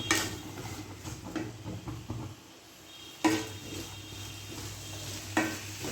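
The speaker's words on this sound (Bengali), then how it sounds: "এবার এটা দিয়ে ভালো করে নাড়িয়ে নেব।" Papaya curry with sugar being stirred in a pan, with a soft continuous sizzle, intermittent scraping and clinks of a spoon against the metal, fairly quiet and close, no talk.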